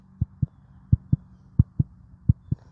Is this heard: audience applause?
no